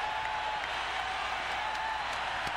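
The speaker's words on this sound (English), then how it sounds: "And the crowd into it big time now here in Oakland" A basketball arena crowd in Oakland roars during a 1994 playoff game, Suns against Warriors. The cheering is a steady, dense wash of noise with no breaks, heard from a distance.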